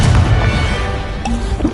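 An Incendio fire spell is cast in the video game Hogwarts Legacy, giving a loud, dense burst of roaring, crackling flame with a heavy low rumble that lasts throughout, with no voices over it.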